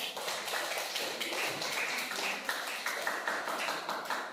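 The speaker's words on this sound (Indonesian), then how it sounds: "Beri aplaus untuk kelompok 3" An audience in a teacher-training class claps for group 3, giving steady, fairly dense applause from a modest group that carries on evenly throughout.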